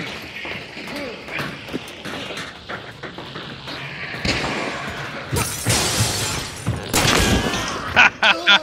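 A hive bomb thrown in the Hunt: Showdown video game bursts with a loud glassy shatter and crackling debris, set among gunfire-like booms, footsteps and busy game noise over several seconds.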